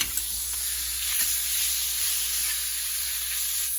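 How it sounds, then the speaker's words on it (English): Meat browning in a pan on an outdoor cook of freshly caught fish and game: a steady, even sizzle with bright hissing throughout, close by and without speech. "Brown it nicely. Yep. Brown the meat up"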